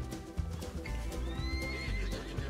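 Horse in the Red Dead Redemption 2 video game: a whinny rises and falls over steady clip-clopping hooves and other soft game ambience, with no talk.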